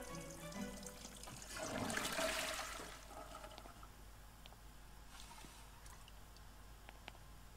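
Broken toilet flushing in The Sims 4, a brief rushing gurgle of water that swells and fades within a couple of seconds, followed by quiet household game ambience.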